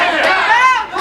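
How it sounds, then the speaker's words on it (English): Wrestling crowd in an arena before an opening bout, a loud close wall of overlapping shouts and chatter with rising cheers, voices blending into a continuous roar. "The crowd eagerly anticipating this bout."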